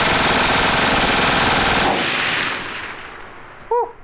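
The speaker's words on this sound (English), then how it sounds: "Got to fire a lot of automatic weapons" Sustained automatic weapon fire at an outdoor gun range, a loud dense burst for about two seconds, then fading echo and a short sharp chirp near the end.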